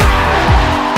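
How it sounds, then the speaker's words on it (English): A car performing an inertia drift through a corner, a loud sustained tire squeal over revving engine with two sweeping pitch swoops, close and continuous. "The inertia drift is an aggressive form of weight shifting to gain more speed through a corner"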